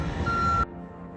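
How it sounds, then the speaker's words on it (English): House alarm in a model home beeping steadily after being set off, a single sustained electronic tone heard clearly indoors against background noise before it cuts off abruptly. "I set the alarm off."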